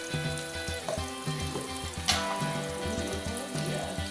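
Turmeric sizzles and fries in hot oil, a steady crackling hiss that runs throughout with a few louder spatters, while cooking puffed-rice ghonto with onions.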